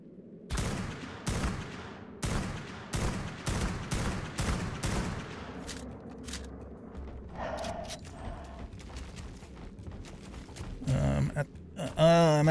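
Sniper rifle fire in the video game Ark Survival Ascended on The Island map, a rapid series of sharp, loud shots in the first half that thin into scattered thuds and creature cries.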